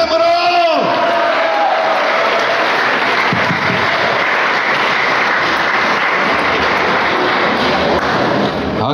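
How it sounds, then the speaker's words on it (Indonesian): Steady, loud applause from an audience at a Malaysian political gathering, rolling on without a break for several seconds after a brief announcement from a man at the start. "Sekali lagi kita berikan tepukan yang gemuruh."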